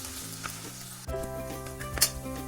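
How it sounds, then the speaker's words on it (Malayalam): Ginger garlic paste sizzling in a pan while being stirred, a steady close crackle that swells as the paste is added, with a few scraping stirs and a sharp spatter near the end. "ഇതിന് നല്ലൊരു പച്ചമണം മാറി വരുന്നവരെ ഇളക്കണം."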